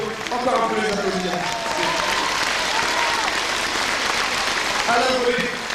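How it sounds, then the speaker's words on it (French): Sustained audience applause after a Les Misérables stage show, a full steady clapping crowd with a voice speaking over it. "on peut encore un peu les applaudir"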